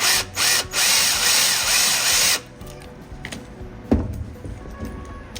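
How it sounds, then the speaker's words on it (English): A power drill bores out a rivet on a Chevy Silverado Monster Jam truck body, with a loud whining burst of drilling for about two seconds, then brief clanks and quieter handling noises. "If you can get your drill right down into the center and hit that hole right the first time, not too bad to get out."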